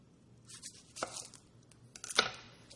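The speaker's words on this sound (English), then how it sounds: "Cut the ends off." Knife chopping the ends off half a medium onion on a board, two crisp cuts about a second apart with soft rustling between, quiet and close.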